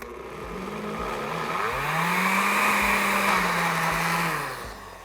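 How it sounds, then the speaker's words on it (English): Food blender whirring as it blends a thick protein fudge mixture, its motor pitch rising and falling with brief stop-start pauses, loud and close. "I've only got a blender here, so you can see it takes a little bit more time, but stop and start, stop and start."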